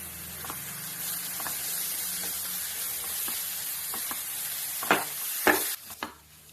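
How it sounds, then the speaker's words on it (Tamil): Masala sautéing in a pan gives a soft, continuous sizzle and hiss, with a few louder scrapes of the spoon near the end as it is stirred. "நல்லா வதக்கிடுங்க. பச்சை வாசனை போகட்டும்."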